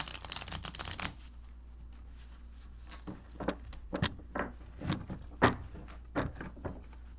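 Cards riffled quickly in one dense burst, then a run of separate soft shuffles and taps spaced irregularly, close up in a quiet room.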